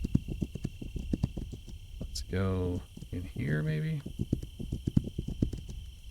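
Horse hooves clip-clopping in a stealth action video game, a regular rhythmic trot close by that continues under someone talking in the middle.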